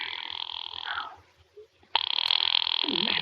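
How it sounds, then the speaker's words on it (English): Telephone ring effect from a 1943 radio suspense drama: a steady electric bell ring that stops, then after a brief pause a second loud ring starts sharply and runs on, with no voices. "Ringing the police department."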